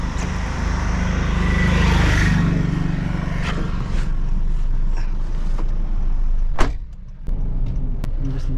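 A car cruises on a long highway drive from Hyderabad to Delhi with a constant, loud road and engine rumble, plus a short dip and a few light clicks near the end.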